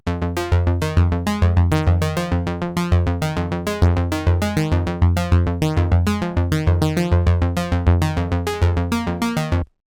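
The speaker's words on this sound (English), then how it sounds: "also an analog type of bass for my clean sublayer" A buzzy analog sawtooth synth bass, in a 90s industrial style, pulses in a steady, fast repeating pattern, bright and loud, with no voices, stopping abruptly at the end.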